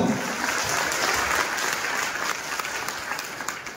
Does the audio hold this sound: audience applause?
yes